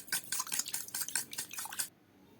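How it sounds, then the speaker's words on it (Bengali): Egg being whisked with milk in a bowl, a quick run of close, rhythmic clinks and sloshing strokes that stops abruptly, leaving near silence. "ডিমটি ভালোভাবে দুধের সঙ্গে মিক্স করে নেব"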